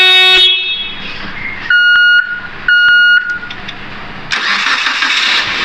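Proton Saga FLX car engine with a blown alternator fuse being started: two buzzing cranking bursts, then the engine catches and runs steadily, all close and loud.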